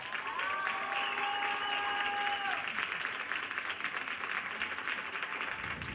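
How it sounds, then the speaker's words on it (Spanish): A studio audience gives a guest a warm, steady round of applause on a podcast recorded in Quintana Roo, a continuous soft patter of many hands, with a brief tonal voice or sound at the start fading beneath it. "yo sí les voy a pedir un fuerte aplauso para Yasmín Pech"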